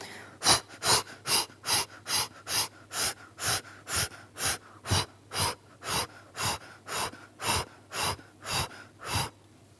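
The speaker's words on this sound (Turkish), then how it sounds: "Küçük küçük hızlı bir şekilde e, nefes alıyorum ve veriyorum." Rapid, forceful breaths in and out during an abdominal crunch exercise, about twenty evenly spaced huffs in a steady pulsing rhythm, close and clear with no talking.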